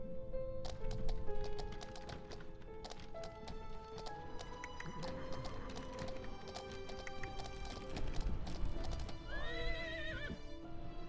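Horse hooves clip-clop steadily while a horse whinnies loudly near the end, over a busy backdrop of tonal game sounds.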